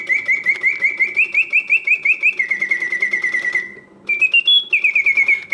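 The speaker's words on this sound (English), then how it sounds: "The bird sings with full voice," Karl Griesbaum mechanical singing bird cage automaton running in continuous mode, with rapid rhythmic chirps and warbling whistled trills that pause briefly near the middle and then resume, loud and close with no talking.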